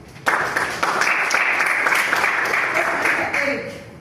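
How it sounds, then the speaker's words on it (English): A Toastmasters club audience breaks into applause for a speaker, a sudden onset of steady group clapping that holds at an even level for several seconds before tapering slightly. "Let's give him a round of applause"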